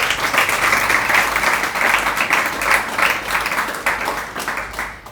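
An audience at a religious sermon claps loudly in rhythmic unison, about two claps per second, holding a steady beat close by before easing slightly at the end.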